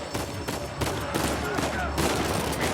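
Gunfire in the cover shooter Uncharted 4, with continuous, dense bursts of shots crackling loudly throughout and no pauses.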